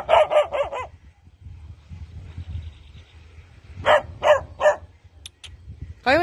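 A dog barks in two short bursts of three or four yips each, close and fairly loud, with a quieter single bark at the end and low background rumble between.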